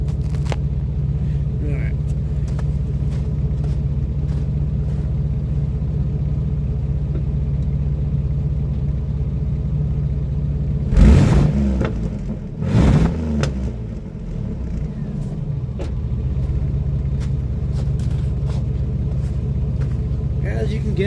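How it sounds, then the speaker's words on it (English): Car engine idling with a mock-up exhaust tip, a steady low rumble broken by two short revs near the middle, with someone speaking briefly over it. "I'll give you a little rev test real quick."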